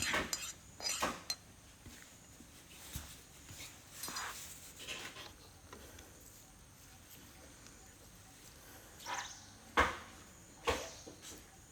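Soft scraping and clinking of a spoon against a bowl while mixing hog plum pickle with tempering, in scattered bursts over quiet background.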